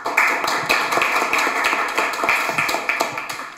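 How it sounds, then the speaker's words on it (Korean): An indoor seminar audience claps together in dense, even applause, a close, steady patter of many hands that holds for several seconds. "큰 박수 부탁드립니다"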